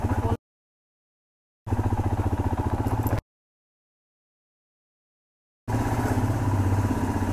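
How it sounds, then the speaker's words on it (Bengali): A Royal Enfield Himalayan motorcycle rides in first gear on a road near Bijanbari in Darjeeling. Its close, throbbing engine comes in three separate bursts broken by silent gaps. "হিমালয়ান 1 নম্বরে দিয়ে চালাচ্ছি।"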